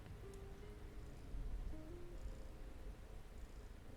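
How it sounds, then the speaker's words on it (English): A cat purrs softly and continuously in a cozy cafe-style ambience, a low steady rumble under faint background noise. "We got some comforting purring going on."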